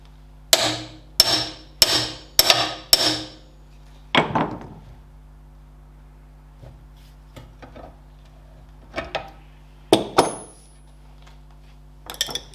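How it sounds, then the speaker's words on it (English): A Ferguson TED20 tractor steering-arm knuckle is clamped in a vise while a pipe wrench works the pipe, with a quick run of four or five sharp metallic clanks followed by scattered knocks and ticks. "put the knuckle in the vase and see if we can turn the pipe using the shifting span, the pipe wrench"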